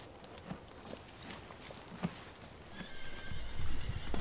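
Basque pottok ponies on the slopes of Mont Baïgoura neigh, with scattered clip-clop of hooves in the open air, faint at first and then louder as hooves and movement come closer near the end.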